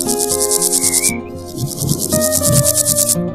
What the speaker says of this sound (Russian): кузнечик